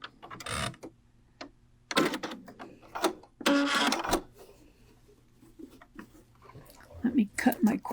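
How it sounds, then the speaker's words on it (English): A Brother sewing machine fitted with a couching foot back stitches over cording in a few short, close whirring bursts separated by quiet gaps. "I'm just going to back stitch here"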